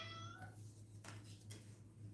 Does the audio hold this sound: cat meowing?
yes